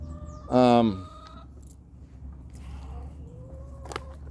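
A chicken lets out a short burst of loud clucking near the start, then quieter background noise with faint scattered sounds.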